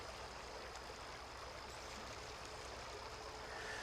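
Flowing water of a trout creek, a steady soft rushing and gurgling wash, faint and continuous with no voices.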